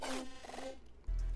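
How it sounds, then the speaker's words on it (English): A dubstep-style effect sample named Ava: a gritty, wobbling, pitched synth growl sweeping over about a second, then an abrupt drop into a deep sustained bass hum, with no voices. "Like a crazy dubstep type noise."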